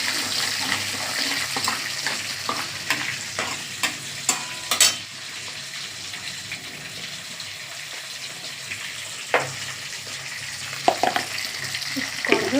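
A tempering of black cumin and one dry red chilli sizzles in hot oil, a soft steady fizz punctuated by scattered sharp pops and stirring clicks.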